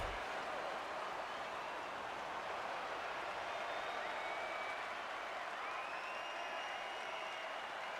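Hockey arena crowd in Toronto roars and applauds after a Maple Leafs goal against the Buffalo Sabres, a steady, dense wash of cheering and clapping with occasional whistles, sustained for eight seconds.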